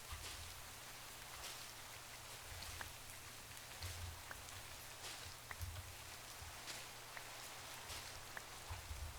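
Rain falling in the Minecraft modpack TerraFirmaGreg, a soft, steady patter with scattered drip ticks, faint and continuous throughout.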